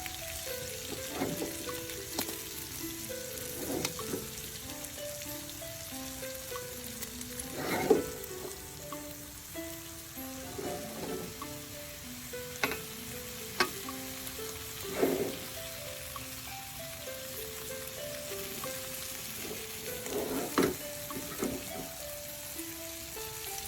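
Fish sizzles steadily in hot oil in a pan, a dense crackling hiss with occasional louder pops and stirring clatter, soft tonal music underneath.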